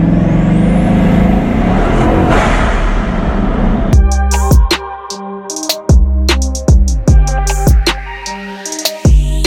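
Busy Mayfair street in London with cars and trucks passing: a dense wash of engine noise and rumble at first, then abrupt hard clunks, air-brake hisses and revving bursts from heavy vehicles close by, loud throughout.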